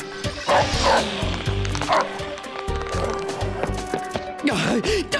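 Cartoon dog barking in a series of bow-wow yips and whimpers, loud and close, with some shouting voices around it in an animated children's show.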